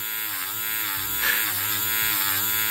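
A Cadrim electric nail drill file machine from a manicure and pedicure kit runs continuously with a steady high-pitched motor whine and buzz, close and loud, pitch wavering slightly as it works.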